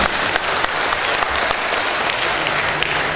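An audience at a 2015 Dumai mayoral candidates' public debate claps for a sign language interpreter, a dense burst of close applause that runs steadily throughout, with a faint voice underneath.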